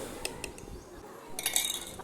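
A metal cooking pot for cashew payasam set down on a kitchen stove, a few quick clanks and clinks of metal on metal, close and moderately loud, with no speech.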